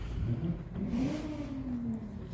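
A neighbor's Lexus car engine revs outside, a single rising surge of engine pitch that peaks and eases off at moderate distance with a steady rumble underneath.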